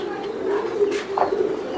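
Racer pigeons kept for club racing give a soft low cooing close by, one short throaty call with a steady murmur of the flock behind it and no talking.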